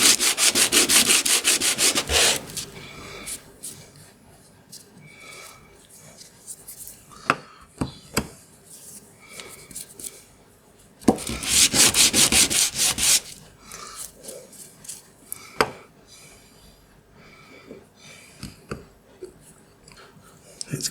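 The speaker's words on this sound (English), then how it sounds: "I'm just going to give them a little flattening so that there's a nice flat surface for the glue to stick the magnet on" Small painted craft pieces for a magnetic Nessie sea monster being sanded flat, rough rubbing strokes coming in loud bursts with quieter scraping between, close up with faint speech.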